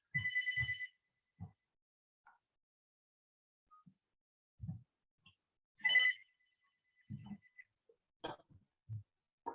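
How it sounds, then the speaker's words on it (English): A home telephone rings in short repeated electronic bursts, fairly near in a quiet room, with soft thumps and small handling noises between the rings. "And my home phone just rang."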